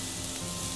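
Mushrooms stir-fried in oil in a heated pan make a brief, steady burst of close sizzling lasting under a second, ending on a sharper scrape.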